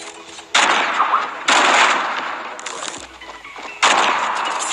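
Loud bursts of rifle gunfire from the Minecraft video game, several rapid volleys in separate clusters with short gaps between them, close and harsh, with no talk.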